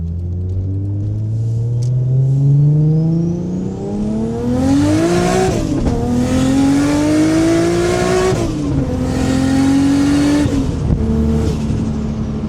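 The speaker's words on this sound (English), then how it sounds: "I'm gonna pop the window so you guys can hear the exhaust noise" Nissan R32 GTR with its RB engine revs hard through rising pulls and gear changes, a loud raspy exhaust heard close from inside the car with the window open.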